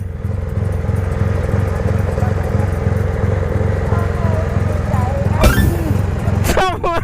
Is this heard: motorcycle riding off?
yes